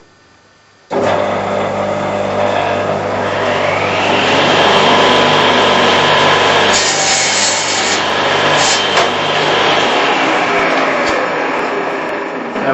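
A Shopsmith woodworking saw starts abruptly and whines at about 4,500 rpm, its tone rising into a loud rasping buzz as the blade makes a cross cut in wood, then easing off.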